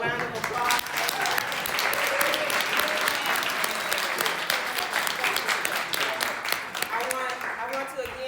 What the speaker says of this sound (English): So again, let's give Kris a round of applause.